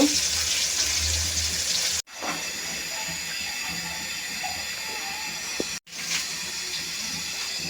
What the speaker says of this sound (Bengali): তেলটা গরম হয়ে গেছে এখন মাছগুলো ভেজে নিচ্ছি